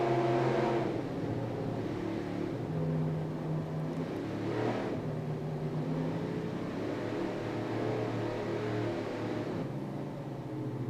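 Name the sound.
racing powerboat engines during a 2002 APBA World Championships race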